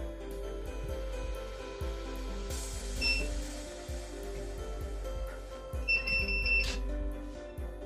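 Two electronic beeps, one short and one longer and sustained, ring out clearly over a steady, pulsing low thump in the background.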